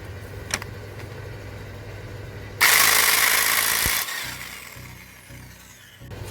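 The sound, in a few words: electric impact gun removing crankshaft bolt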